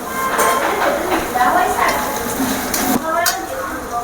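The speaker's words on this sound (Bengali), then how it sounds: "এবারে টমেটো কুচি দিয়ে দেবো।" Chopped tomato sizzling in a hot pan, with spoon scrapes and clinks against metal and a voice briefly heard in the background.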